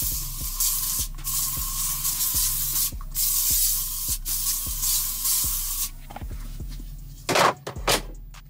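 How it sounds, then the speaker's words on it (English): Several short hissing bursts from a disinfectant spray bottle inside a work truck, fired in a steady rhythm close by, followed by a few clunks and rustles. "spray everything down"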